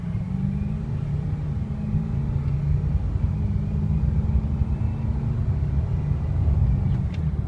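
A 2005 Ford F350 pickup fitted with Wheel Kinetics wheels drives along with a steady, loud low engine rumble and road noise throughout, no one speaking.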